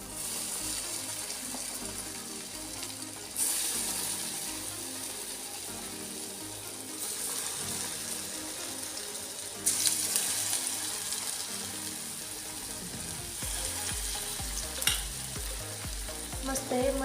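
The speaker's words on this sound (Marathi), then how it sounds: "मस्त हे मंद आचेवर तळून घेऊया" Black-eyed pea batter pakoras fry in hot oil, a steady broadband sizzle running the whole way with a few brighter crackling bursts and light stirring clatter, no voices.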